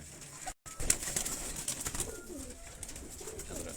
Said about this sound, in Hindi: ये वो कबूतर हैं खाक सिरे।